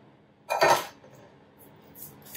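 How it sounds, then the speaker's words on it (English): A fork scrapes and clinks against a bowl while mixing dough for Italian Easter bread, one short burst of close metallic rubbing followed by quiet. "I think I'll mix it with a fork."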